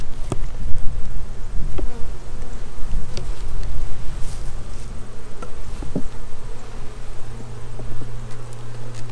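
A dense, continuous buzzing of many honey bees close by at a hive, steady and loud, with occasional faint knocks and clicks.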